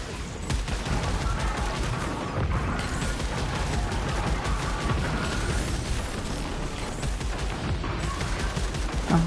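Rapid pistol fire in the PS5 shooter Returnal, dense repeated shots and bursts piling up continuously with explosions and mechanical clatter underneath, loud and close for the whole stretch.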